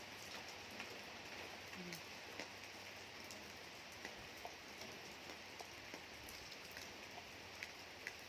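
Steady rain falls in a broad, even hiss with scattered drops ticking on a surface, heard alone and fairly faint throughout.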